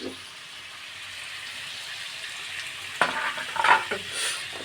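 Potatoes frying in a pan give a soft continuous sizzle close up, then a few sharp stirring clatters and a louder burst of frying near the end.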